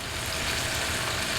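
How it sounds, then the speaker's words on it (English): Bacon and onion fry together in a pan on high heat as the bacon fat renders, making a steady, close, dense crackling sizzle throughout with no voices. "our fat of our bacon is almost rendered off"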